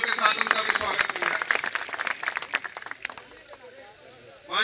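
A rally crowd claps loudly for a candidate at a by-election event, with dense, sustained applause that thins out toward the end.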